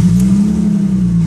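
A car starter motor cranking, loud and close, with a steady buzzing whir held throughout the short burst.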